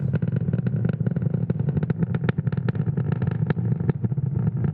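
A Falcon 9 rocket carrying 22 Starlink satellites roars through launch, a dense, loud, continuous rumble with crackling, popping bursts that holds steady throughout, with no voices.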